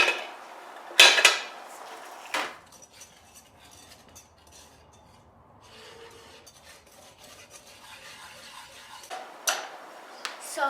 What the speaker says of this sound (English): I'm just going to start whisking it.